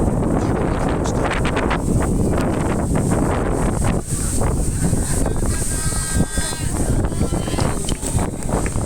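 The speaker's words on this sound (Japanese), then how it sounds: "少々風が強いですが" Strong wind buffets the microphone during a marathon run, a loud, continuous roaring rush with gusty surges throughout, no clear voices over it.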